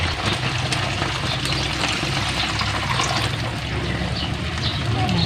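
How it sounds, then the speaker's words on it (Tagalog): Water is poured into a pan of frying hotdogs with onions and banana ketchup, a continuous close splashing gush that lasts about five seconds with no break. "pwede na din natin lagyan ng tubig"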